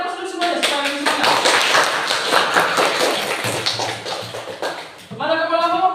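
Classroom applause: many hands clapping together in a dense, lively patter for several seconds, with a teacher speaking before and after it.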